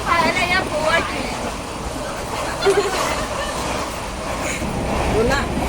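Inside a Konkan Railway train in motion on a journey toward Goa, a continuous rumbling rattle of the carriage runs underneath, with passengers chatting nearby throughout.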